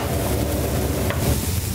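Pumpkin pieces fry in a pan with a steady, close sizzle and faint stirring, the hiss continuous throughout.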